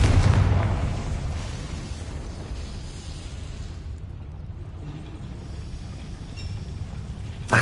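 A Confringo fire spell explodes in Hogwarts Legacy with a deep burst at the start, then a long rumbling decay and crackle, ending in a sharp pop.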